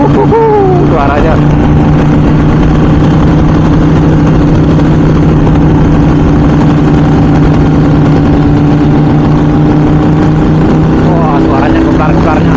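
A Harley-Davidson 883 motorcycle engine idles loud and close with a steady deep rumbling throb, briefly revving at the start and end, while someone talks over it.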